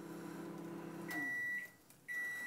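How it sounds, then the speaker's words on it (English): A microwave oven hums steadily while heating a Cromer crab bake topped with parsley, then gives a couple of sharp, loud electronic beeps up close, with a brief gap between them. "Put it into the microwave."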